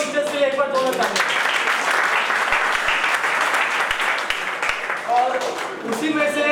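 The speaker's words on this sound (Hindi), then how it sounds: "तो एक बार सभी पेरेंट्स और टीचर्स के लिए एक बार दोनों तालियां।" An audience at a felicitation ceremony at Pachane Tirth applauds parents and teachers in a full, sustained burst, with a voice speaking briefly just before and after.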